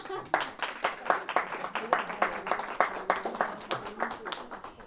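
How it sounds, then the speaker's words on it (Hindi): Guests at a wedding welcome ceremony at the Nasher Sculpture Center give a burst of steady, fairly close hand clapping that goes on for several seconds, with some voices mixed in. "ताली तो कम से कम"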